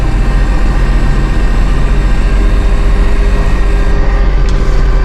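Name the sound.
Massey Ferguson 1835M compact tractor engine running while turning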